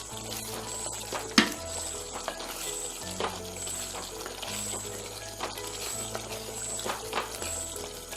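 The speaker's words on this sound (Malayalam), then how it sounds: "നന്നായിട്ട് ഇളക്കാം." Chicken varattiyathu with pepper powder, coriander and mint stirred in a hot pan, with a steady sizzle and occasional scraping strokes and one sharp knock, close up without speech.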